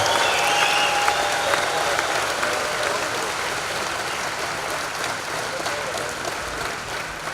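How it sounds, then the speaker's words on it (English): A large crowd at a high school graduation ceremony gives the 2018 graduating class a sustained round of applause. The clapping is dense and steady and fades slightly toward the end. "a big round of applause for the grads of 2018"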